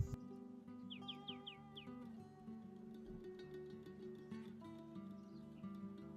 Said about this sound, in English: Spiny-cheeked honeyeater.